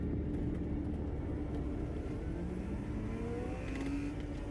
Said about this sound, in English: You hear that engine? She's gonna be like a NASCAR driver.